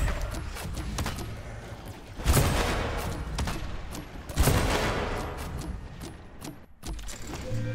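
Artillery dome cannon shots in the game Dome Keeper, two heavy booming blasts around the second and fourth seconds over a dense, crackling battle din.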